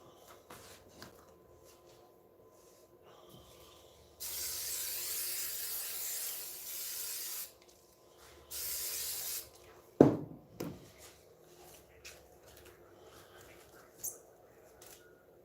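Spray adhesive hisses from a can in two bursts, one of about three seconds and a shorter one after it, with light rubbing and handling noises around them.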